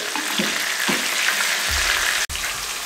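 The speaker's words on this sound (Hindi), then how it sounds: "8 मिनट लगेंगे, इसको साइडें चेंज करते रहेंगे और इसको अच्छा सा गोल्डन कलर ले आएंगे, फ्राई कर लेंगे" Chicken tikka pieces frying in oil in a pan, a steady close sizzle and hiss with a few soft bubbling pops and one abrupt cut near the end.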